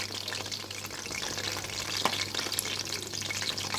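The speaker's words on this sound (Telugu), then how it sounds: "అందుకే ఒక 2 నిమిషాలు వేగిన తర్వాత వెనక తిప్పుకొని వేపుకోవాలి" Aloo pills, potato snacks coated with rice flour, fry in hot oil with a steady, dense sizzle and a faint stir or flip midway, heard close and alone.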